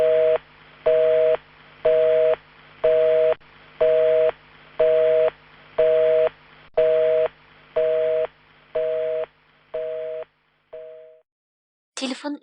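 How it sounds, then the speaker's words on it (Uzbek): A telephone busy signal after a call is cut off: a steady run of about eleven evenly spaced, loud tone beeps that stop, followed by a brief click-like noise at the end. "Telefon üzüldü."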